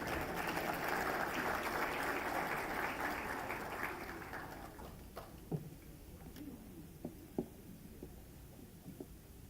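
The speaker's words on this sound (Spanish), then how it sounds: "Un fuerte aplauso, por favor." Applause from a forum audience welcoming a waste and environmental health specialist to the stage, a dense wash of clapping for the first few seconds that thins out into scattered individual claps.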